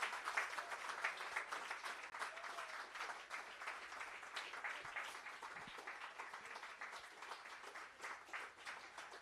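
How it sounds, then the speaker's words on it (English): A crowd keeps clapping as exhibitors come onto the stage at a workshop and expo, continuous dense applause heard from a distance at fairly low level, steady throughout with no letup. "Please, can we keep on clapping for our exhibitors as they come onto stage?"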